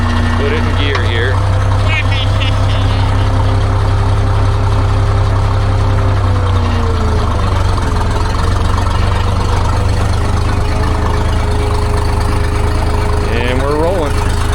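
A Minneapolis-Moline 955 propane tractor engine runs loud and steady nearby as it is put in gear, with a constant low drone and brief shifting pitch changes.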